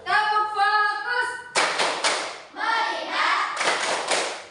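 Children in a classroom performing the rhythmic clapping game "Tepuk fokus", chanting in unison and breaking into bursts of clapping between sung phrases, with a group of young voices leading the rhythm.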